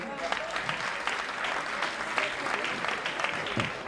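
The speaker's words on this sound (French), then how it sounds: "Est-ce qu'on peut applaudir très fort pour lui?" Audience applause at a French stand-up comedy night, a dense, steady wash of clapping from a large crowd that holds loud and even throughout with no pauses.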